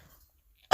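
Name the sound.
cough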